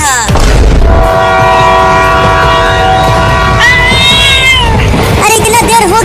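A cartoon cat meows while chasing a character aboard a train, with loud rumbling rail noise and a sustained horn-like tone running through the whole stretch.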